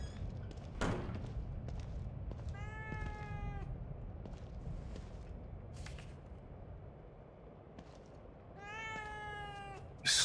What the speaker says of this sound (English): I don't ever remember owning a cat.